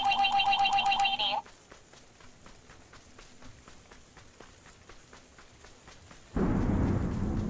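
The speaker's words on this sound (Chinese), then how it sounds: "打雷啦！" Rain patters steadily in the video game PUBG, then a loud, close burst of thunder and heavy downpour swells near the end, after a short electronic chime at the start.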